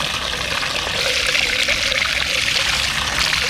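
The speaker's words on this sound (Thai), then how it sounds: "น้ำใส น้ำไหลดีครับ" Clear water gushes steadily from a newly drilled 4-inch, 45-metre-deep borehole, making a loud, constant, close splashing flow with no voices over it.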